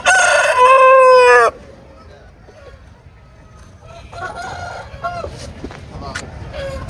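A fighter rooster at Kundarapalli's Friday fowl market lets out one loud, close, drawn-out crow, followed by quieter clucks and background chatter from people nearby.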